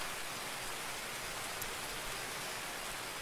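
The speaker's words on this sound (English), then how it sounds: "And it's still raining like shit." Steady, dense rain falls in the video game Escape from Tarkov, an even hiss of drops that fills the whole stretch with no speech over it.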